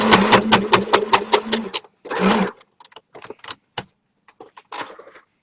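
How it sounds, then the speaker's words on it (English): A sewing machine stitching a striped tie-dye bag runs in a loud rapid burst, pauses, then gives a shorter run for the back stitch, followed by scattered clicks and fabric handling close by. "I'm going to back stitch the whole piece. And forward again."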